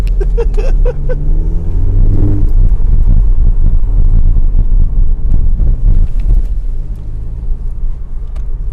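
An Audi TT 2.0 TFSI drives on the road, its steady engine rumble running close and continuous under constant wind buffeting for the whole stretch.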